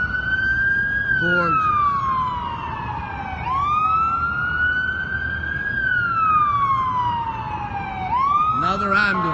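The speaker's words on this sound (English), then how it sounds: "That's another ambulance." An ambulance siren in New York City wails, rising and falling in long sweeping cycles as heard from a rooftop deck, loud and steady over distant traffic, while a person briefly speaks.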